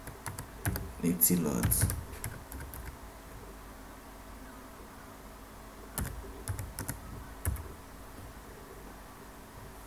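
A computer keyboard typed on in a short burst of close clicks, then a few scattered keystrokes, with a voice speaking briefly over the typing.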